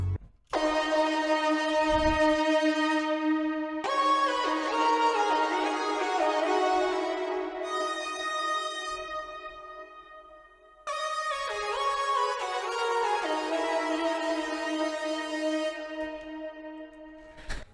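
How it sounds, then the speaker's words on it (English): Two synthesizer parts for a jazzy sample play alone: bright, sustained tonal chords with rich overtones shifting in three long phrases, separated by brief breaks, clean and fairly loud. "And then I added 2 more synth parts, and they sound like this."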